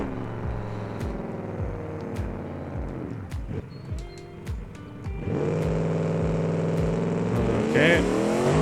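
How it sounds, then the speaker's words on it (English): A budget drag car launches with nitrous in a beam drag-racing game, its engine revving hard through repeated rising gear-change sweeps, dipping briefly before a sustained loud roar at full throttle. "Let's try that again, but we'll hit the nitrous at the 60-foot mark."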